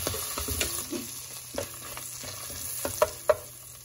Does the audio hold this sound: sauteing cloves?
yes